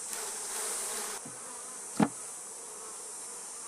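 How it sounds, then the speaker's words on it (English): Close, steady buzzing of many honey bees at an open hive during honey harvesting fills the clip, with a soft knock partway through. "you can hear them, they get a little loud because they're buzzing around"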